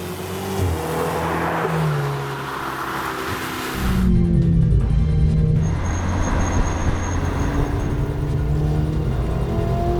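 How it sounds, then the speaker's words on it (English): A Ferrari 488 GTB twin-turbo V8 engine starts at the push of a button, rumbling and revving loudly, surging to a louder, harsher roar partway through and holding there. "The twin-turbo V8 snorts into life with a push of a button."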